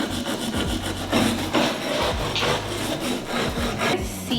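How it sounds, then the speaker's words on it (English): Dirty glass on a 1920s Hoosier cabinet is scrubbed by hand in quick back-and-forth strokes, a close, raspy rhythmic rubbing with short pauses between bursts. "So I'm gonna start scrubbing this."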